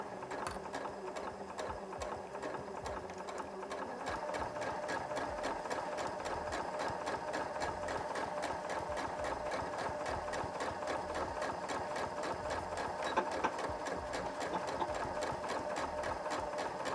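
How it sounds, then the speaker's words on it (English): A sewing machine runs steadily, stitching a straight seam with a 3/8 inch allowance on a fabric scrunchie, its rapid needle rhythm continuous and close for the whole stretch with no talking. "We're going to sew this with a simple straight stitch and about a 3/8 inch seam allowance."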